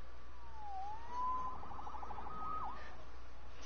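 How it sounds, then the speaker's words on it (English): A siren wails, its pitch sliding up and down in a few sweeping cycles, steady and fairly loud over a faint background hum. "Saved by the siren."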